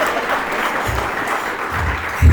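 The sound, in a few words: seminar audience applause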